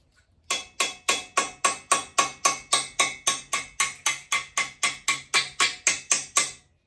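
Rapid, steady hammer blows on metal, about twenty sharp ringing strikes in a quick even rhythm, loud and close, with no talking.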